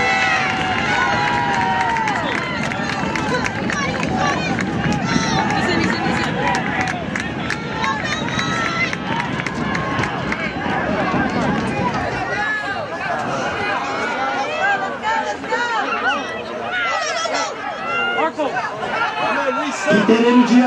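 A rugby crowd at an under-16 match between Australian Raptors Rugby Academy and Belmont Shore, steady chatter and cheering with shouted encouragement, a loud babble of voices running throughout with people talking over it.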